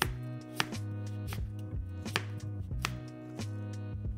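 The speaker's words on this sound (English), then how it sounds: "Then I'm gonna cut this into very thin slices." A knife slices a peeled carrot into thin slices on a cutting board, crisp regular chopping taps in a steady rhythm of about eight cuts, close and clear, over soft background music.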